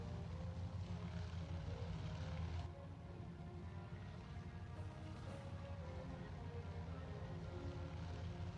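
A simulated Douglas C-47 Dakota twin radial-engine airliner revving for takeoff, a steady low droning engine roar that holds nearly constant, quiet and distant.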